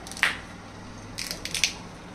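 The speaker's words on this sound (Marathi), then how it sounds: "सर्वप्रथम आता या 2 मिरच्या आपण तोडून खलबत्त्यात टाकून घेऊया" Two green chillies are snapped by hand into a stone mortar: one crisp snap, then a quick cluster of small cracks, close and fairly quiet against a still background.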